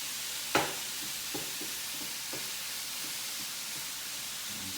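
Ground pork and vegetables sizzle in a Power XL cooker with a constant hiss and a few soft knocks and scrapes, one sharper clatter standing out near the start.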